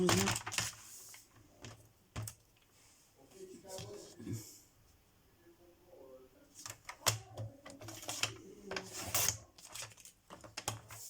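Paper being cut for an envelope pouch with a cardstock trimmer, giving repeated short scraping and sliding strokes with some taps, close by and moderately loud, under a quiet voice at times.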